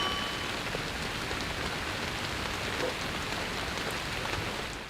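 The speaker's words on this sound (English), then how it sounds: "The rain is an overlay put over the animation in post" Steady rain overlay from an animated film, a dense continuous patter of drops on hard surfaces, even and fairly loud throughout with no voices.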